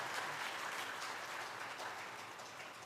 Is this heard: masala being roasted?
no